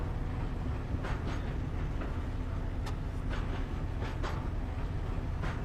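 Train rolling along rails in a video game, a steady dense rumble with faint rhythmic clicks throughout, continuous and moderately loud with no talking.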